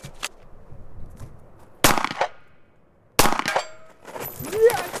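Two loud, sharp gunshots from a Taurus GX4 compact carry pistol at an outdoor range, well spaced with brief ringing decay, followed by clattering and faint background movement.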